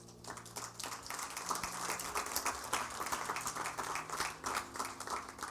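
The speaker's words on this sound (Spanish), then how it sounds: "Dale un aplauso al Señor" A church congregation claps together during a Spanish-language sermon, a dense and continuous patter of many hands heard from some distance, fairly soft and even.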